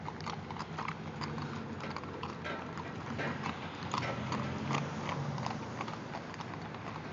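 Horse hooves clip-clop steadily on a hard street, a brisk repeating rhythm of hoofbeats at moderate distance over faint background noise.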